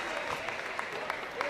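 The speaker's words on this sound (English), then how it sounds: "He gets a round of applause as he heads to the bench" A high school basketball crowd in a gym claps as a Roseburg player heads to the bench after a big third quarter; brief, faint, steady applause with a few louder claps, echoing in the gym.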